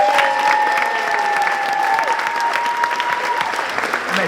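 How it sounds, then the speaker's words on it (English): A crowd at a high school senior night claps loudly and steadily for the first set of senior superlatives, the dense applause holding for the whole stretch as a few voices call out over it. "Can I have one more big round of applause for the first set of senior superlatives?"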